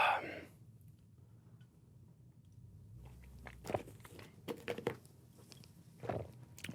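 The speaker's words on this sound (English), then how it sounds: "Let me refresh my memory on how the Raspberry Chews taste" Raspberry-flavored Core Nutritionals Fury pre-workout chews being bitten and chewed close to the mic, with a run of soft, irregular crunchy mouth sounds after a quiet start.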